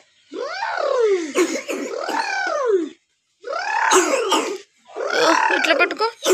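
A small boy coughs in repeated harsh bursts, close to the microphone, in three clusters separated by short pauses.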